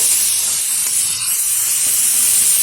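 Ridge gourd drops into a hot spice paste with ginger for a chhyanchra dish, setting off a loud, dense, unbroken hiss of steam close up.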